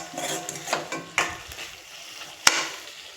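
A spoon stirs poppy seeds and cashews into eggplant biryani in a pot, making soft scraping and light sizzling with a few sharp clicks of metal against the pan.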